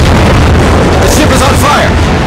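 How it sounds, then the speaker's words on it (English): A destroyer explodes in the World of Warships naval battle game: a very loud, dense, roaring blast and rumble fills the whole stretch, with a voice heard faintly over it. "destroyer blown up."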